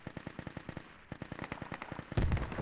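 Rapid bursts of PKM machine gun fire in a video game, evenly spaced shots rattling steadily, then merging into a louder, denser burst with heavy low thumps near the end.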